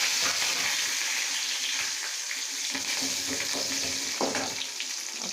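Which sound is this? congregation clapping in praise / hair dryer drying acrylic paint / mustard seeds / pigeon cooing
mustard seeds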